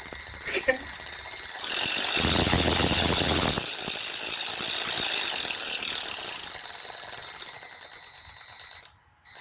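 Ryobi P344 cordless ratchet running at varying speed, a rapid close mechanical clicking and whirring that speeds up and slows down, pauses briefly near the end, then starts again.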